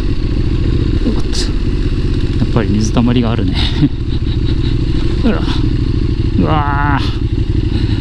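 A KTM 1290 Super Duke R rides along a wet, puddled unpaved road, its engine a loud steady rumble throughout with occasional clatter and thumps, while a rider speaks over it.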